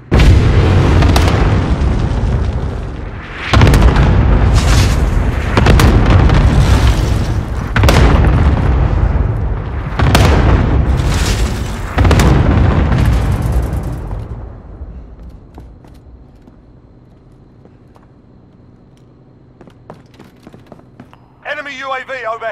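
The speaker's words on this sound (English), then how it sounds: "Cluster strike away." Cluster strike explosions in a military video game: a rapid series of heavy, booming blasts rolling one after another for about fifteen seconds, loud and close, then fading to a low rumble with faint radio chatter at the end.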